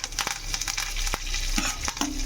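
Dry red chilli, tempering spices and curry leaves fry in hot oil, giving a close, steady sizzle broken by a few sharp crackles and pops over about two seconds.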